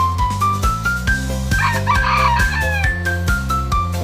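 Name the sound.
fighting rooster crowing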